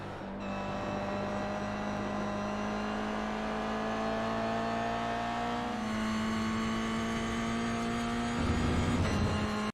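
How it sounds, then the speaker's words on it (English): A Toyota GR86 on the iRacing Rudskogen Motorsenter circuit accelerates onto a straight, its engine note droning steadily and climbing in pitch, with a gear change partway through and a louder surge near the end. "once it points towards the exit, then you want to step on the throttle again and accelerate onto the straight"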